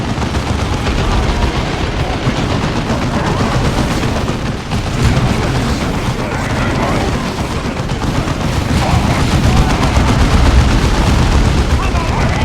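Tactical squad gunfire in the video game Dawn of War II, a dense, loud, unbroken barrage of rapid shots and booming explosions running throughout.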